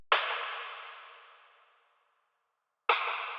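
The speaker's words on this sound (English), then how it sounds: "adding flanger, some reverb, delay, we get this." A snare drum hit swept by flanger and smeared with reverb and delay rings out in a long, slowly fading wash, then a second processed hit starts near the end.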